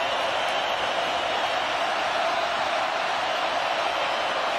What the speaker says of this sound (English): Home crowd roaring for a stop.